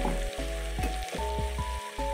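Onion paste with spices fries in a pan for mash daal, a close, continuous sizzle with a few soft knocks or stirring scrapes in a loose rhythm, and no voices.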